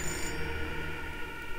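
A telephone rings in the video game Fahrenheit: a steady electronic tone with bright high harmonics that drops away after a brief moment, while a game soundtrack hums underneath and nobody speaks.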